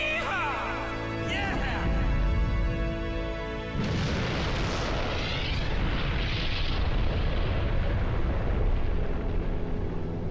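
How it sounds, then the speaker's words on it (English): Island blowing apart in the Devil May Cry video game: a loud, sustained roaring rumble with booming blasts, thickening into dense continuous explosive noise after a few seconds, under game music and effects. "Video games love to have you leaving an island while it's exploding"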